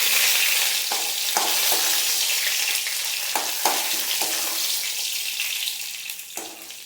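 Urad dal and chana dal fry in a pan with a steady, close sizzle, broken by several short stirring scrapes. No one speaks.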